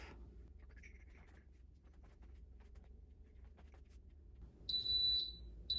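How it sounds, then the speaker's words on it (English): Quiet room hum for a few seconds, then a rice cooker's electronic timer starts beeping, a shrill high tone sounding close by. "see if we can hear the timer go off"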